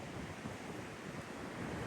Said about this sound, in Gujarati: પાકો મોજો દરિયાની અંદર વધી ગયો છે